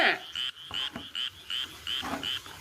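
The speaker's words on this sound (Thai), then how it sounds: "ได้กบมาแล้วไม่กล้าฆ่าเนี่ยจะได้กินไหมเนี่ย" Frogs kept for cooking croak in a quick run of about eight evenly spaced, close and fairly loud calls, each a short raspy burst repeating in a steady rhythm.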